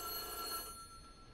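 A telephone rings inside the horror video game White Day, a single bright electronic ring that sounds loud and close, then fades into a low hum with no voices.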